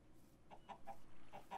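Chickens in the farming game Seaopolis give a few short, faint clucks, soft scattered calls over a quiet background hum.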